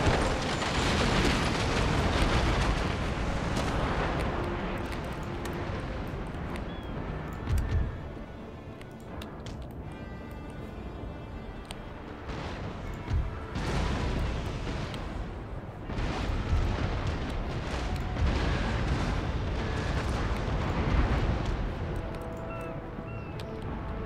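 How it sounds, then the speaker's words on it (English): Heavy naval cannon broadside from sailing ships of the line in Empire Total War, fired at Swedish warships: a dense, continuous roll of booming shots and rumbling impacts that barely lets up, loud and close throughout. "Let's fire a lovely broadside into that third rear ship of the line."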